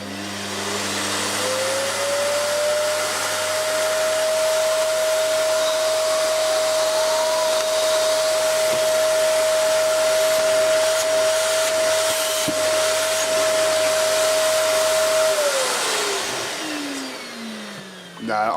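A Hoover Dust Manager cyclonic cylinder vacuum cleaner rated at 2300 W spins up into a loud, steady high-pitched whine with an airy roar. It runs evenly close by for about fourteen seconds, then winds down as the motor stops.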